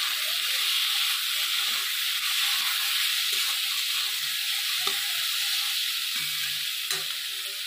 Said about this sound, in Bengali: এখানে আমার সবজি আর ডাল ভাজা হয়ে গেছে।